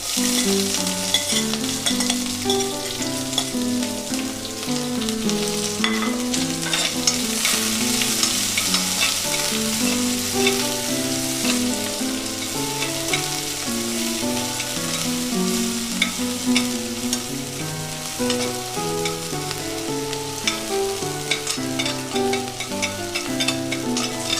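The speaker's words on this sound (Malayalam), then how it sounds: "കറിവേപ്പില ഇട്ട് കൊടുക്കാം. പിന്നെ സവാള," Curry leaves and sliced onion frying in a pan for a Kerala tomato curry, a steady close sizzle with stirring scrapes running throughout, no voices.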